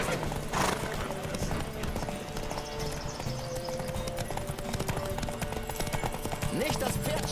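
Horse hooves clip-clop steadily at a gallop in The Witcher 3, with occasional whinnies over a constant game soundtrack and ambience, loud and continuous throughout.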